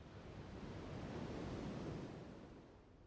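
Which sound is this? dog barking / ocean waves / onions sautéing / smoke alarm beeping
ocean waves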